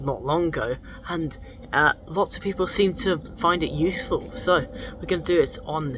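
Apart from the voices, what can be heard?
No everyday noises stand out.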